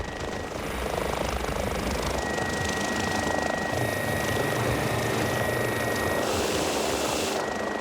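Rescue helicopter touching down in a park near tall trees and wires, its rotor and turbine producing a loud, steady, close-up roar with a persistent high whine throughout, no voices.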